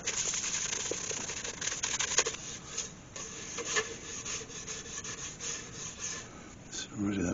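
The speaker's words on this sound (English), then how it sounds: "now for some sand and sealer" Sandpaper and sealer rubbing against a walnut and Milliput bowl spinning on a wood lathe, a quiet continuous raspy friction with irregular swells and no speech.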